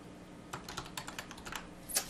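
Fingers tap out a short note on a computer keyboard, a quick uneven run of soft clicking keystrokes ending in a slightly firmer press, heard close and fairly quiet.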